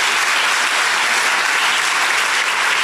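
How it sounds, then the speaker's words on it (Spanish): A church congregation bursts into loud, dense applause, a steady wash of many hands clapping together without a break. "Dele un aplauso bien fuerte al Rey."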